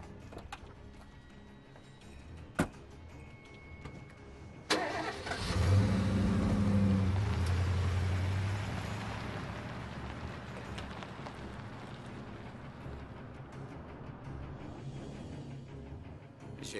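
A car engine fires up with a sudden, loud burst, revs hard and rumbles on as the vehicle pulls away, its sound fading into a steady background drone. The scene is from a French action film.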